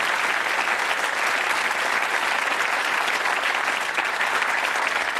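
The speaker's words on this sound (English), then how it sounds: "Give them a round of applause." Studio audience at a Bullseye game show breaks into loud, dense, sustained applause for the contestants, steady throughout with no talk.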